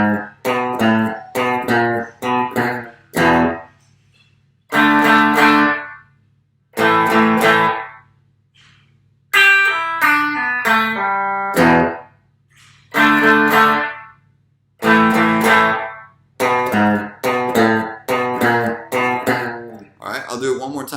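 Clean, undistorted electric guitar lead lines played slowly in repeated phrases, with distinct bursts of notes separated by short pauses, close and fairly loud with no talk over them.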